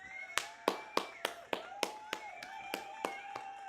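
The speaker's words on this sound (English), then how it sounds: "Let's give them a hand of applause." Sharp claps from a small crowd giving a hand of applause, landing in a steady beat about three times a second, close and fairly loud over a voice and a faint tonal hum.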